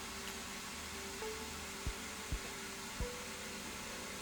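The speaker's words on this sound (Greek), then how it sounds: "Την ώρα που γυρνάει, στον ανεμιστήρα εμφανίζονται κάποια μηνύματα." A small gadget fan that flashes stored messages as it spins gives a faint, steady whirring hum with a few soft clicks, heard alone.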